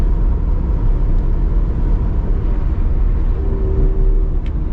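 Low, steady engine rumble from a Ferrari 360 with a gated manual gearbox, heard from inside the cabin as a constant droning note with no distinct rev spikes and no talking.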